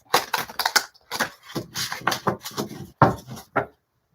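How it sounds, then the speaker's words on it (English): Tarot cards are shuffled close up in quick bursts of riffling and slapping, several short rustling flurries separated by brief pauses. "Let's just shuffle."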